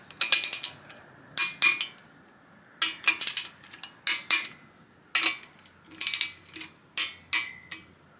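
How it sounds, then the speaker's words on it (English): Repeated bursts of ratcheting clicks from a 14 mm torque wrench set to 20 foot-pounds, tightening bolts on a turbocharged Miata engine build, with short pauses between each run of close, crisp clicks. "Take your torque wrench. It's a 14 millimeter set to 20 foot-pounds. And just torque them all in."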